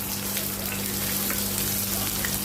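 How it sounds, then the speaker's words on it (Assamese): Onions being stirred and fried in oil in a pan, a dense, steady, close sizzle like rain on a surface, with a constant low hum underneath and no clear talking. "দেখিছে নহয় পিঁয়াজ তেলতে লৰাই আছোঁ"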